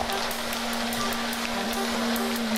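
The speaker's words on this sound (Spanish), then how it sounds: "¿La oyes? Es un granizo delicioso, también en segunda fase." Hail falls in a dense, continuous patter, loud and steady throughout, with a faint low hum underneath.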